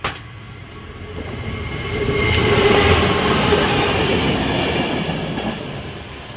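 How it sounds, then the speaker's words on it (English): A Class 66 freight train rolls slowly past a level crossing at Mobberley, its rumble and clickety-clack of wagons swelling to a loud peak midway, then holding steady as the cars continue by, with no talk. "Class 66 I think this freight train's called."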